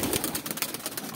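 Pigeons being released from a loft give soft cooing and rustling, faint and close, with scattered flutter-like bursts over a brief moment and no talking.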